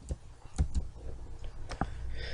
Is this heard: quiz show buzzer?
no